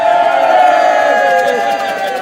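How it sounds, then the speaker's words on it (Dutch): A parade crowd cheering and whooping loudly and continuously at the Einzelgängeroptocht carnival procession in Rimburg, a dense roar of many voices close by that stays strong throughout. "Gejuich erachter bij nummer 78."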